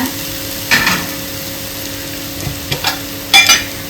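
Apple pieces fry in a pan for apple payasam, with a low, steady sizzle under a faint hum, broken by a few sharp scrapes and clatters of stirring.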